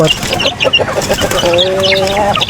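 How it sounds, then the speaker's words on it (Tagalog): Pet chickens clucking close by in a yard, short repeated calls with a drawn-out fowl call near the end, over steady background noise. "Yung aking mga alagang manok."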